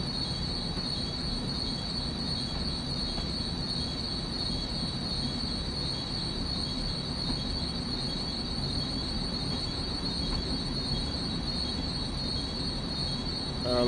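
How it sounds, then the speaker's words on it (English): A Long Island Rail Road train runs steadily in a video game, its wheels squealing in a continuous high metallic whine over a constant rumble for the full stretch, with no talking. "There's my Long Island Railroad train that I am substituting for the PATH train."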